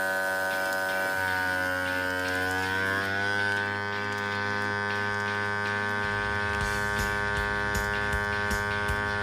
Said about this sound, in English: Now I'm going to vacuum seal it.